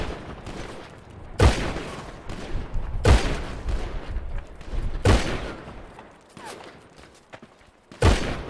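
Loud, close shots from a roleplay video game, coming as sharp, booming reports roughly every one to two seconds with a rumbling noise bed between them and no talk over them.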